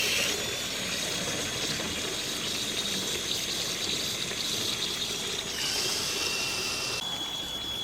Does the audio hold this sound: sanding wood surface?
no